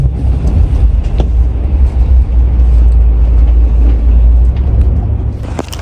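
A premium intercity bus ride in South Korea, heard from inside the cabin as a loud, steady low road rumble with occasional knocks and rattles, and no voices.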